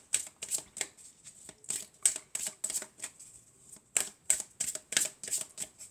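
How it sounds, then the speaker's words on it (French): Tarot cards being riffled and shuffled by hand during a reading, a quick run of crisp papery flutters and slaps in close succession, fairly close and moderately loud, with no voices. "on va prendre déjà cette carte. On va mélanger encore un peu."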